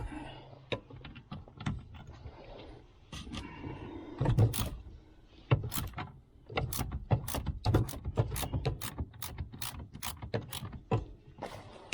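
A 12 mm ratchet breaking loose a bolt on a Toyota Highlander during steering shaft work, giving a run of sharp, close, rapid clicks from the pawl in several bursts, mixed with clanks and handling of the tool.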